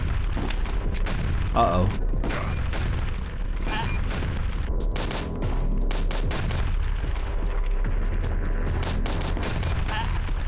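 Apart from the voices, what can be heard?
tank battle gunfire and explosions in video game HROT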